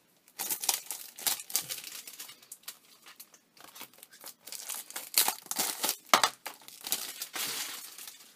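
A steelbook video game case is being unwrapped and opened, giving a run of crinkling plastic, small tearing sounds and light clicks and taps, all close and fairly quiet, with no talking.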